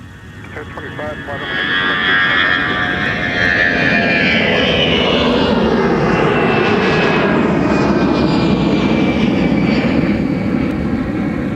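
A Delta jet airliner begins its takeoff roll at Minneapolis–Saint Paul airport: engine roar builds over the first two seconds, then holds as a loud, steady rumble with a rising whine, heard from nearby.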